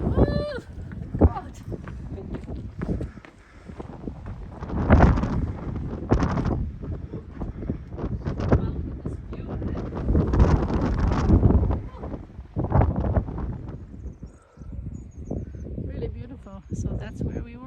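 Strong wind blowing across the open Meseta plains on the Camino de Santiago near Castrojeriz, roaring and buffeting the microphone almost without pause, loud and close, while people talk underneath.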